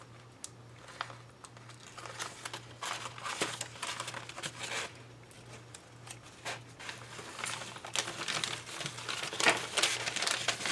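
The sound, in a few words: peeling transfer paper off the cutting mat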